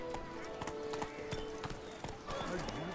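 Hooves of Geralt's horse Roach clop at a steady trot in The Witcher 3, a close, even rhythm running under background voices and game ambience.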